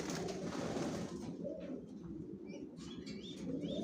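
Soft, low cooing from a tiger grizzle racing pigeon hen of the Johnson line, sitting on eggs in a loft, heard close with a few rustles of movement and a faint chirp toward the end.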